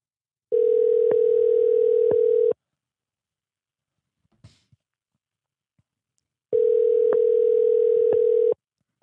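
A telephone ringback tone plays while a call goes out, with two loud, steady two-second tones separated by a long silence and a faint clatter in the gap.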